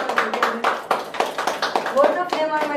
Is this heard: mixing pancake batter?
no